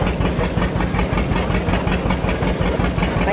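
A vintage Massey Harris Pony tractor engine drives a cedar shingle mill, running steadily and loudly with an even, pulsing chug throughout and no voices.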